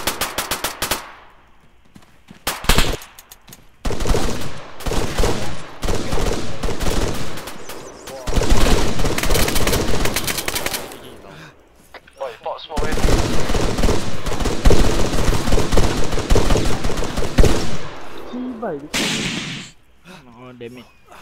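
Gunfire in the video game Halo, loud rapid bursts of automatic fire in several long volleys separated by short pauses, close and harsh.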